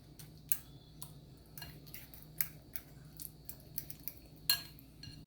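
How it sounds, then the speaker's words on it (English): A fork mashing sardines in a bowl for a Jamaican sardine omelet, making quiet, irregular clicks and taps against the bowl scattered over a few seconds, with no voices. "you're going to mash out the sardine"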